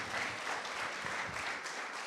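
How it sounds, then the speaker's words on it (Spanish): A church congregation claps together at an evening service, a dense, steady burst of applause filling the room for a couple of seconds. "Damos un aplauso a los hermanos en esta noche por su trabajo."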